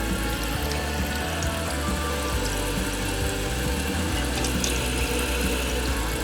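A toilet tank refills with water after a new wax ring has been fitted, giving a steady, continuous rushing and hissing of water flowing into the tank with no pauses or voices.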